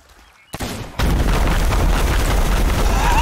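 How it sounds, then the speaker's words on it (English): Gunpowder barrels blow up beside a sloop in Sea of Thieves, a short pop followed by a loud, sustained roaring blast that fills the rest of the moment. "can you capsize a ship using gunpowder barrels? There are 10 of them next to it."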